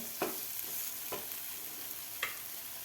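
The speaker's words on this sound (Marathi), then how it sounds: "आपला टोमॅटो कांदा आणि मसालेसुद्धा मस्त फ्राय झालेला आहे" Tomato, onion and spices fry for egg bhurji under a steady soft sizzle, with three brief scraping stirs spaced about a second apart.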